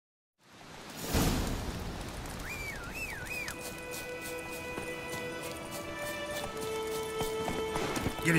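Horse hooves clip-clop at a gallop in The Witcher 3 game, a steady rapid rhythm, close and moderately loud, with a whinny and soft rain-like ambience underneath.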